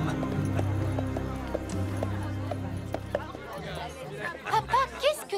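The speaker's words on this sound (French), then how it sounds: "Ce cheval, c'était Edgar." A horse in an animated Grimm fairy-tale cartoon clip-clops along beneath a musical score, and whinnies and neighs rise near the end.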